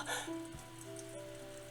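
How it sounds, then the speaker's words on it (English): Steady pouring rain in a story game, heard as a constant soft wash of drops with faint tonal hums beneath and no voices. "He was sat still in the pouring rain."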